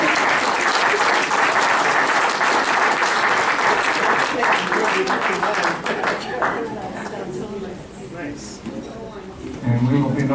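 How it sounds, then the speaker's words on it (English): A big round of audience applause at a board meeting, loud sustained clapping for about six seconds that gradually thins out, with a voice starting to speak near the end. "Let's give them a big round of applause."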